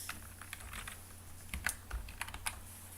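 Typing on a computer keyboard while entering a spreadsheet formula, a steady run of close, light keystrokes with irregular rhythm and a few sharper taps, heard alone without talk.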